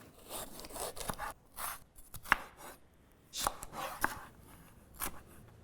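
A pepper being chopped on a board for a Greek giant bean salad, with irregular bursts of close knife strokes and sharp taps against the board, separated by short pauses.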